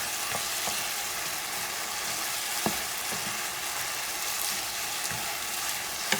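Squash stirred into an island-style goat stew sizzles steadily in a pot, with a constant frying hiss and occasional soft scrapes and knocks of the spoon.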